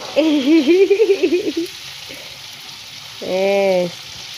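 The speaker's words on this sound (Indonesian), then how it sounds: "Masa goreng lombok direwangi." Chilies fry in hot oil, a steady sizzle running underneath, while voices rise over it in a warbling stretch and again briefly near the end.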